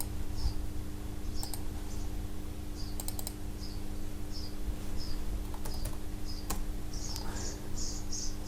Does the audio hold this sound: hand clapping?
no